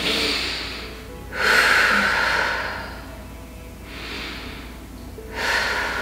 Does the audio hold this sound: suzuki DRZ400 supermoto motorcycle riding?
no